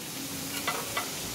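Onion and green chillies fry softly in a pan for pav bhaji, a steady low sizzle with a couple of quick stirring scrapes.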